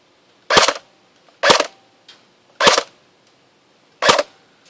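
A JG AUG A3 airsoft electric gun fires four single shots outdoors, each a crisp, snappy pop followed by a brief tail, spaced about a second apart with quiet in between and no talking.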